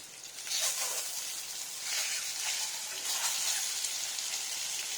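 Boiled eggs sprinkled with salt fry in a hot pan, crackling and sizzling in bright uneven bursts that swell and ease, close and fairly loud.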